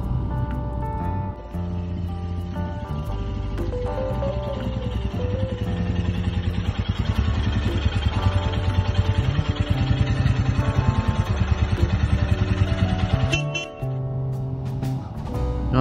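A newly bought motorcycle ridden home from a local dealer, its engine droning steadily and loudly throughout with a rumbling low-end tone, rising and falling slightly with throttle changes and a brief dip near the end.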